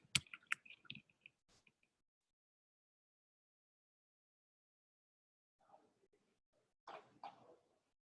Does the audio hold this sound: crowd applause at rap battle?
no